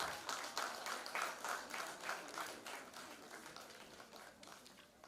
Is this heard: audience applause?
yes